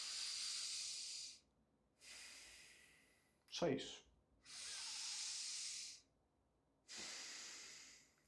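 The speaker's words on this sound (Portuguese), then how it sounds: "você poderia simplesmente todos os dias treinar a respiração completa, usando todo o aparato torácico" Deep, full breaths that fill the abdomen and ribs: long, close, airy inhales and exhales in a slow steady cycle, broken by a brief spoken phrase partway through.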